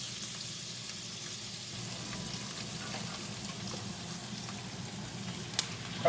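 Onions sizzle in a frying pan with a soft, even crackling hiss that stays steady and fairly quiet throughout.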